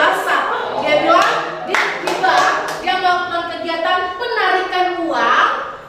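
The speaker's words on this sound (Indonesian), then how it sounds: "Oke, tepuk tangan untuk Tian dulu." Children in a classroom lesson about banks clap a few sharp, rhythmic claps close by, then chant together in loud sing-song voices, with more clapping woven through the chant.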